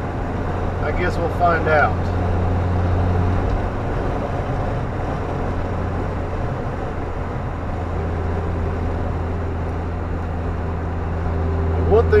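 First-generation Kia Sportage cruising in fifth gear on a curvy highway, a steady low engine drone and road rumble running throughout, with someone talking briefly over it near the start.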